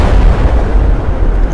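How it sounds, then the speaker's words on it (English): A tank cannon fires in a Russian military mod of a video game, producing a loud, heavy, sustained booming rumble that dominates without speech. "It's got a cannon."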